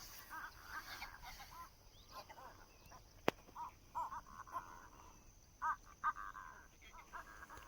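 Calls of a water-carrying bird, a species that flies tens of kilometres to bring water to its nest, at Amboseli National Park; short repeated calls rise over a steady outdoor background, with one sharp click midway.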